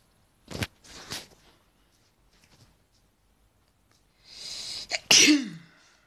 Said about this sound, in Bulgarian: Кихнах.